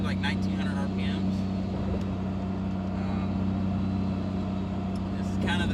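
A 5.9 Cummins truck with a 5-inch Magnaflow muffler cruises the highway near 70 mph at about 1900 RPM, its exhaust a steady low droning hum under occasional talk.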